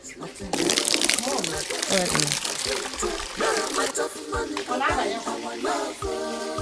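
Water runs from a tap as it is fetched, a steady rushing flow under loud talk from people nearby, with some crinkling sounds mixed in.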